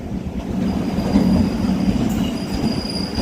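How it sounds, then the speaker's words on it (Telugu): A long Bangalore–Dharmavaram MEMU electric train pulls in at a station platform: loud, close rumbling with steady wheel noise and a thin squeal of wheels on rails, no voices. "సో మెమో ట్రైన్ ఇది, ఒక 2-3 మెమో కలిసి వస్తుంది అనమాట."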